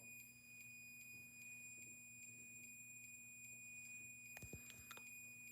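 Multimeter continuity beep while testing a gray and white wire: a steady high electronic tone holds throughout over low mains hum, with a couple of brief clicks near the end.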